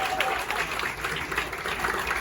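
Steady applause from a comedy club audience greets a comedian, loud and continuous with a faint murmur of voices underneath.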